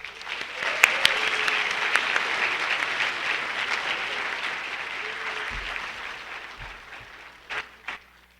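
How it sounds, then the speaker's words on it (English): An audience at a high school National Honor Society induction ceremony claps in a sustained, dense round of applause that slowly thins out, ending with a few scattered final claps. "Please join me in thanking them with a round of applause."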